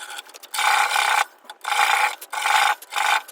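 A flat file rasping the edges of a handmade guitar nut, heard as three bursts of close, gritty strokes separated by short pauses, with rubbing scrapes at the start.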